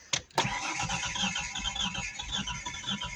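A Nissan Pathfinder that sat parked for 13 years cranks with a couple of sharp bursts, then catches and settles into a steady, rough running engine, close and fairly loud.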